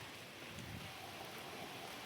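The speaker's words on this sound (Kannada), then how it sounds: "ಇಲ್ಲಿ ನೋಡ್ರೆ ಮಳೆ ಬರತೈತಿ." Rain falling steadily outside a railway station, a dense broadband hiss with a faint low rumble, continuous and fairly even throughout with no voices.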